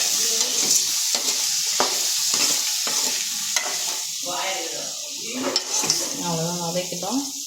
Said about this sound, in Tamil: இப்போ நம்ம எடுத்து வச்சுருக்க புளியையும் போட்டு ஒரு வதக்கிக்கலாம்.